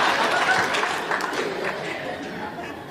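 A stand-up comedy audience claps, a dense close burst of applause mixed with crowd chatter that gradually thins out over a few seconds.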